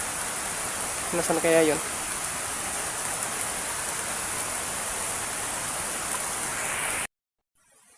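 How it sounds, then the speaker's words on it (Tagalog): Heavy rain pours in a dense, constant hiss outdoors, loud and unbroken, with a brief voice speaking over it early on before the sound cuts off abruptly. "dahil sa lakas ng ulan"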